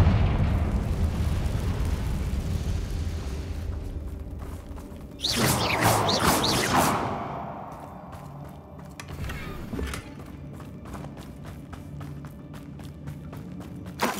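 A Confringo fire spell from the Hogwarts Legacy video game bursts loudly in mid-clip, a roaring blast over rumbling game ambience, followed by scattered sharp crackles and impacts.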